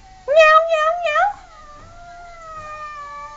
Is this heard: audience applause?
no